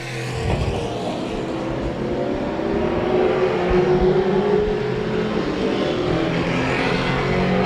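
Race cars roar around the track on the final lap at Claremont Motorsports Park, a loud sustained engine drone that rises and swells as the pack passes.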